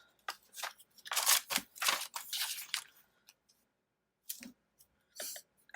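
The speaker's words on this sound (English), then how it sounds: "I'm gonna just do a really quick cut around it" Small scissors make quick fussy cuts around a printed paper piece for a journal, a few bursts of crisp snipping and crunching separated by short pauses, close and fairly quiet.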